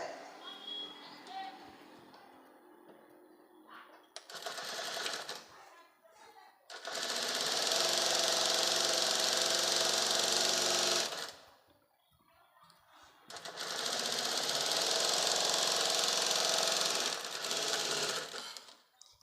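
Sewing machine stitching a patiala salwar, running in two long steady bursts of rapid needle chatter, close and loud, separated by a short pause, with a quieter stretch of handling and faint activity at the start.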